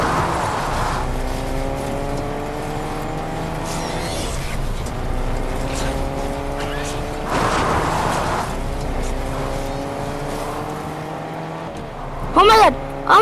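A car engine drones steadily in the Fortnite video game, its pitch rising and falling in repeated sweeps as it accelerates and shifts, with players talking over it throughout.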